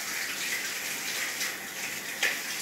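Tap water runs steadily from a faucet during handwashing, a soft continuous hiss with a brief louder splash near the end, heard alone without talk.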